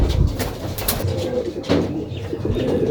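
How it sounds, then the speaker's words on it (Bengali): Pigeons coo close by in a steady series of soft, throaty calls, several birds overlapping without pause, with faint rustling in the background. "এখানে আমার মোট 9টি কবুতর আছে।"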